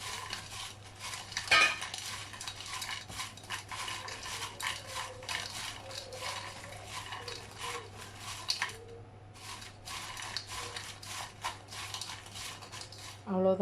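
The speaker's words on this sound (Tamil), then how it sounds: "இப்போ இதை நல்லா மிக்ஸ் பண்ணிக்கணும்." Salt gets stirred into a dish of elephant foot yam fries with a utensil, giving soft, continuous scraping and clinks against the container under a low steady hum, fairly close, with no clear speech.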